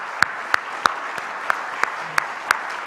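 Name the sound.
congregation applauding to bless the next generation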